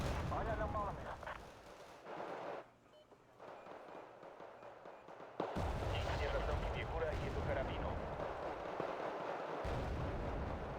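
A Grad rocket artillery launcher fires in a war video game, loosing repeated heavy booming bursts and crackling salvos that stop briefly, then return louder and denser, with a voice faintly underneath.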